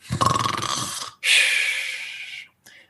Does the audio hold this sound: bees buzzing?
no